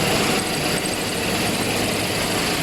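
Car engine idling steadily with the clutch pedal pressed, a continuous even hum with no noise from the clutch, alone and fairly loud.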